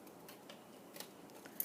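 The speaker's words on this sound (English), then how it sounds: "I'm going to carefully take the scissors and just cut out this triangle shape" Scissors cutting a triangle shape out of paper, a few faint, close snips spaced irregularly in a quiet room, with a slightly sharper click near the end.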